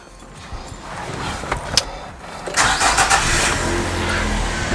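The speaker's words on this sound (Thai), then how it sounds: "เดี๋ยวต่อไปผมสตาร์ทสตาร์ทเครื่องให้ฟัง" A 2009 Nissan Teana 2.0 engine cranks briefly, then catches and settles into a smooth, fairly quiet idle.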